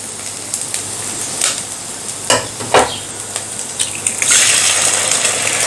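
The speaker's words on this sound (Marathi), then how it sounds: "आता आपण यामध्ये अंडी फोडून घालूयात" Eggs cracked into a hot pan of sautéed garlic and ginger for egg fried rice, giving a steady close sizzle with a few sharp crackling bursts and stirring clatter, the frying growing louder toward the end.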